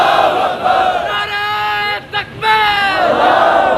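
A large rally crowd roars back a religious slogan in unison, loud sustained shouted chanting in two surging waves with a brief pause between them.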